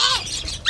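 Birds in a large, roomy, well-ventilated giant cage give a brief, shrill squawk with a squealing edge, close and fairly loud, rising sharply again at the end.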